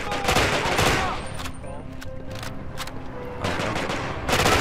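Rapid bursts of automatic gunfire in Quantum of Solace, with a loud volley at the start, a short lull with scattered shots, then renewed heavy firing near the end.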